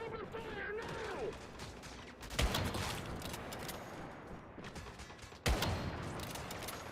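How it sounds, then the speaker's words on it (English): Gunfire in the video game Once Human comes as two sharp, loud bursts spaced a few seconds apart. Each one rings out into a lingering tail, and a short speech-like sound is heard before them. "Open fire now!"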